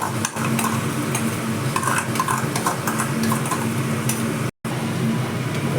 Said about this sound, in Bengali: মশলার সঙ্গে পেঁয়াজটাকে ভালো করে একটু হালকা ভেজে নেব।